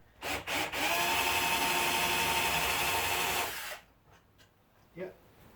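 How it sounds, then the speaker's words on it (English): A power drill bores through pine wood for a guitar speaker cabinet, with a couple of short bursts followed by a steady, loud grinding whine lasting about three seconds, then quiet with a faint knock. "So I have it partially drilled through from the front, which I'll go a little bit more."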